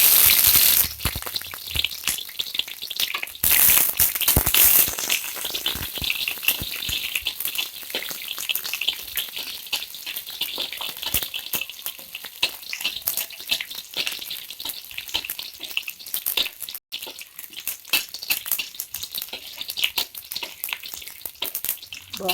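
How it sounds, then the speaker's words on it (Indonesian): Shallots sautéing in hot oil make a steady, dense sizzle and crackle. It runs throughout, loudest at the start, with occasional stirring scrapes. "bawang merah kita tumis sampai kuningnya sahabat Dapur DH, sampai kuning"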